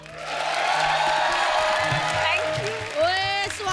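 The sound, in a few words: audience applause welcoming a guest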